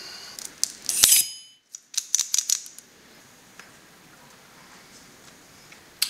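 A cutter snips the cap off an El Rey del Mundo Choix Suprême cigar: one sharp, close cut with a bright crackle, then a few lighter clicks and small handling ticks in an otherwise quiet room.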